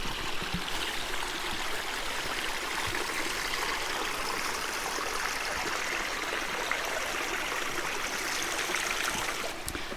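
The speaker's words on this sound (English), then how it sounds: "I'll just show you guys this little creek." Small outdoor creek running steadily, a continuous close babble and trickle of water with no pauses and no voices.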